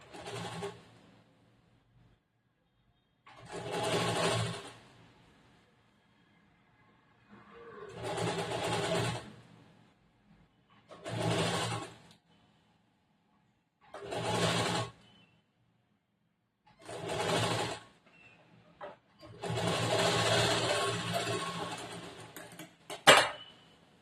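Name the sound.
sewing machine stitching a lined blouse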